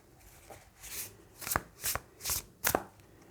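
Tarot cards being shuffled in a few short, crisp riffling bursts, fairly close and quiet, with brief pauses between them.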